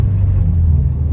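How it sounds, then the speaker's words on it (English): A Kartboy short shifter with new bushings whines from inside a car during a test drive, a steady low hum and rumble from the drivetrain and road filling the cabin throughout. "You can kind of hear that whining noise"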